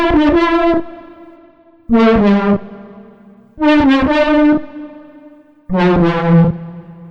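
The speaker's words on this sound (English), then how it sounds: "And the last thing I'm going to do is add a little bit of reverb." A bright synth lead made in Serum plays four short chord-like phrases, each followed by a long, smooth plate reverb tail that rings out in the gaps between notes.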